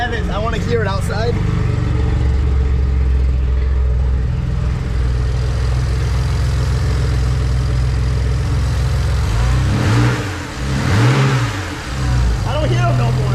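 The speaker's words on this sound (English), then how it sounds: "Here, rev it. I want to hear it outside." BMW 135i engine with loud intake noise, idling steadily and close, then blipped in quick revs at the start and several sharp rev sweeps near the end, with voices talking over it.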